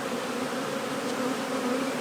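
Honey bees buzz in a dense, steady drone around an opened hive during a spring frame inspection, the sound close and continuous with no talking.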